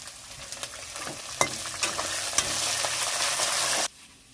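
Curry leaves and chopped green chillies crackle and sizzle in hot oil over fried ginger and garlic for flaked rice, a steady close frying hiss with stirring scrapes, cutting off abruptly near the end.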